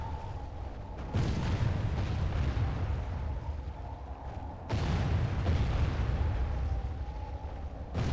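Catapult projectiles slam into a fortress wall during a siege in the strategy game The Third Age: Total War, with two heavy booming impacts that each give way to a long, loud rumbling roar.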